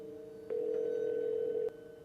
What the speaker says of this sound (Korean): 저는 바로 친구에게 전화를 걸어서 지금 상황을 알려줬어요.